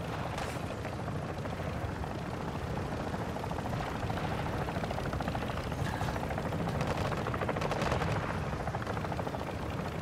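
A helicopter's rotor drone mixes with bursts of rapid gunfire and explosions in the game Call of Duty: Modern Warfare, a dense continuous battle din with no talking.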